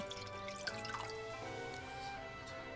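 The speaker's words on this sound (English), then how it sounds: "we're going to add some water into the pan to get it ready for when we're going to steam our Mushipan" Water trickles and drips into a pan set up for steaming Japanese steamed bread, a faint, close splashing over a steady background hum with no speech.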